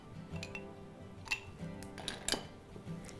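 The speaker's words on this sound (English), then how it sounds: "Then add some ice to a glass." Ice cubes drop into a glass for iced coffee, giving a few sharp clinks and rattles at a modest level over a quiet room.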